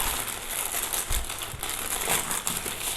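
Plastic packaging crinkling and rustling while a Redmi 10000 mAh power bank is unboxed, a continuous close, busy crackle with a few louder handling bumps and no speech.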